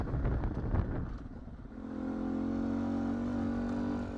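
A 2019 Beta 125 RR-S two-stroke dirt bike engine drones steadily while riding, with wind rumble and clatter over the first part and an even, sustained engine tone afterward.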